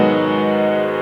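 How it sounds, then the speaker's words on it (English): A sustained minor seventh chord rings out with its flatted seventh added, the notes held together evenly and steadily without attack or pause, heard alone. "So this sound right here is the sound of a minor seventh chord."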